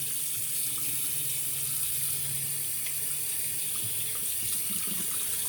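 Tap water runs steadily into a sink as a hand is rinsed during a wet shave, a constant close hiss without pause.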